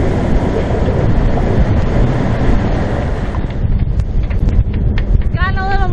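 Strong wind roars and buffets the microphone aboard a sailboat heading upwind in lumpy water, loud and continuous, with a voice briefly audible near the end.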